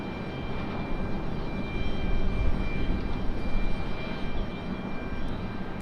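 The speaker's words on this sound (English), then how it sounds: "There's a C-130." A Lockheed C-130 military transport plane drones steadily at Raleigh-Durham International Airport, its broad engine rumble swelling slightly and then holding, with a thin steady tone above it and no voices.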